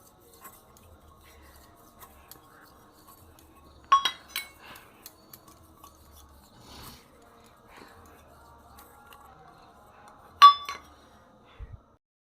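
Small bowls being greased with oil for steamed semolina pitha knock and clink sparsely on a counter, with two sharper clatters standing out against near silence and a voice occasionally in the background.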